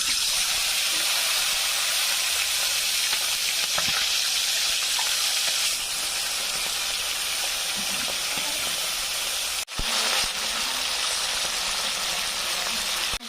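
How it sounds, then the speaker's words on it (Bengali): Pomfret fish frying in hot mustard oil in a kadai, giving a loud, continuous sizzling hiss close by, with a brief break near the end before the spitting resumes. "কড়াইতে সর্ষের তেল গরম করে নিয়েছি, এবার মাছগুলো সব ভেজে নেব।"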